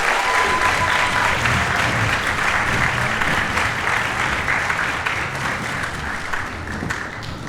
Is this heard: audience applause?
yes